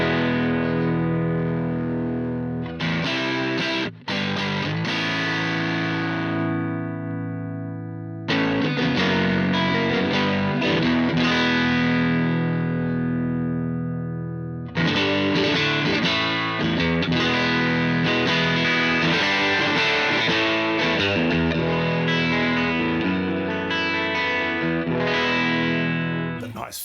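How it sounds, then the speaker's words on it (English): Electric guitar through a Fender tweed-style amp with the presence control turned up high for extra gain, giving a growling, mildly overdriven tone: loud, close strummed chords and riffs in several phrases separated by brief pauses, ringing out between them. "That nice Fender tweed growl."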